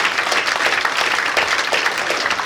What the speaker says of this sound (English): give yourselves, the best fans in the league, if not the country, a massive round of applause